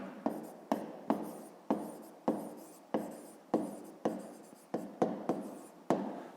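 A pen writes an answer on a math worksheet in quick, regular scratchy strokes, about a dozen short bursts close to the mic in a quiet room.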